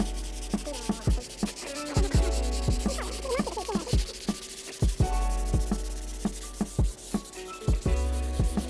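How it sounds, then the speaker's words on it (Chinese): Fine sandpaper rubs over a timber bench with an epoxy-filled crack, making rhythmic back-and-forth scratchy strokes, close and moderately quiet, with short pauses between passes and no talk. "越是要用非常细的砂纸"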